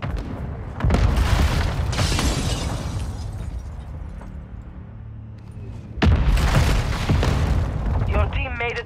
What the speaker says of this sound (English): Hostile launch the mortar strike.